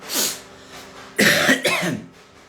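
Two harsh, close coughs in quick succession after a brief throaty sound, then quiet.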